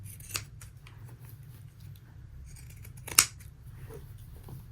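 Scissors cut fabric for a dress on a table, two quiet crisp snips spaced a few seconds apart over a faint low background hum.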